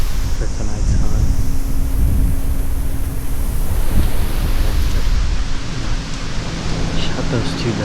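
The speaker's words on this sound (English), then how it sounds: "It is a windy one, 30-mile-an-hour gust." Strong wind gusting around 30 miles an hour buffets the microphone outdoors at a deer-hunting stand, a loud continuous roar of rumbling noise that swells and eases without pause.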